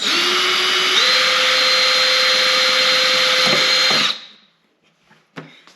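Power drill boring a straight hole through a drill block while installing a Rusty's Off-Road tire carrier on a JL Wrangler, a loud steady whine that runs for about four seconds, steps up in pitch once, then stops, leaving a few faint clicks.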